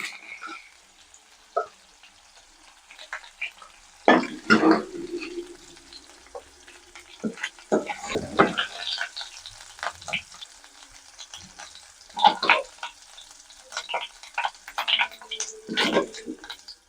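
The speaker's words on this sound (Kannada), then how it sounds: "ಈಗ ಪನ್ನೀರ್ ಫ್ರೈ ಆಗಿರೋದನ್ನ ತೆಗಿತಾ ಇದ್ದೀನಿ." Fried paneer is lifted out of hot oil while cooking restaurant-style matar paneer masala, producing intermittent bursts of sizzling and crackling with clinks and scrapes between quieter gaps.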